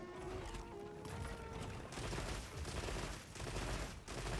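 In a monster-hunting video game, a player's weapon fires again and again at a monster's head during a hunt, giving sharp repeated reports over busy game ambience at moderate level.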